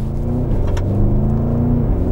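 A 2021 Porsche Cayenne GTS Coupe's V8 engine accelerates with a deep, throaty rumble that climbs steadily in pitch, loud and close, with no voices over it.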